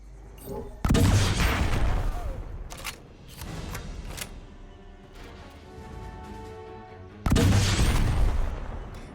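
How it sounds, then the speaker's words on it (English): Grenade launcher fire in the Predator: Hunting Grounds video game, two heavy booming blasts several seconds apart, each with a long rumbling tail and scattered debris and crackle between. "Did I mention I love the grenade launcher?"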